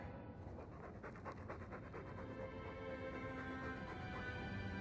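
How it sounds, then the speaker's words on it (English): A dog pants heavily and steadily in the Dragon Age 2 video game, with quick rapid breaths close and loud throughout, and no voices. "All that noisy dog breath, day in, day out, make him stop."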